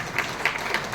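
An audience applauds at a small village function held during the Sri Venugopala chariot festival in Doddamagge, with brief, soft clapping running through a short moment.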